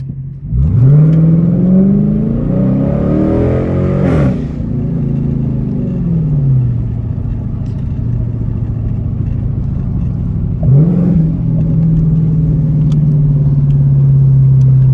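A Dodge Charger R/T, widebody pursuit model with AWD, revs hard on a late-night drive. Its loud V8 rises through the gears, then drops with deep downshift blips. It settles into a steady rumbling cruise, with one more rev near the end.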